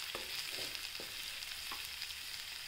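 Potato pieces frying in a pan for a fasting-style potato dish, a steady soft sizzle close by with a few faint stirring clicks, no talk.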